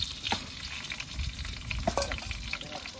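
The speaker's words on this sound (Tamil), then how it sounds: "அப்படியே எண்ணெய் காஞ்சிட்டு இப்போ பட்டை இதை போட்டுக்கலாம்." Cinnamon bark sizzles in hot oil in a village kitchen pan while quail biryani is being started, a close crackling fry with occasional sharp pops and stirring scrapes, no talking.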